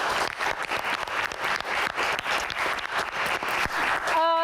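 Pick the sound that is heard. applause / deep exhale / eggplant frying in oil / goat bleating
applause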